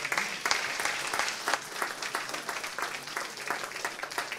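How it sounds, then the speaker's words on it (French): Audience applause at a French conference on commerce and regional development, a steady, dense clapping from a sizeable crowd that holds for several seconds with no talk over it. "On peut les applaudir."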